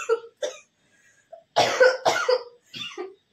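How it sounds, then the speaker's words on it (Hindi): Several sharp coughs indoors, a couple of short isolated ones followed by a louder burst of two or three close together, with no talking. "खांसी आती है इसमें मत सोया करो"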